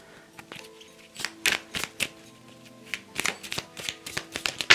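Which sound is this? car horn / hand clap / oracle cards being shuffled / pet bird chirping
oracle cards being shuffled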